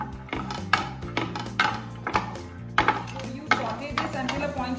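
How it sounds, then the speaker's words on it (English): A spoon scrapes and knocks against a pan while stuffed pepper filling is stirred, giving a close, irregular series of clacks and scrapes over a low steady hum. "And we stir all this really well."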